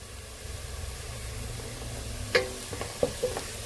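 Onions fried until reddish in a pan, heard as a low, steady sizzle that builds into a few sharp clatters of a utensil near the end.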